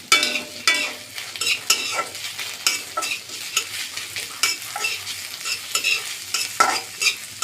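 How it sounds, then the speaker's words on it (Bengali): A large chopped onion stirred into hot oil with fried garlic and green chilies, sizzling steadily while a utensil scrapes and clatters against the pan in repeated strokes. "রসুন ও কাঁচামরিচগুলো ভাজা করে নিয়ে এখন দিয়ে দিব পেঁয়াজ"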